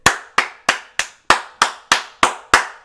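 Nine sharp hand claps land at an even, steady pace, each crisp and close with a short decay before the next.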